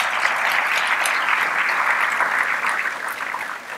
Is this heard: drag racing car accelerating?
no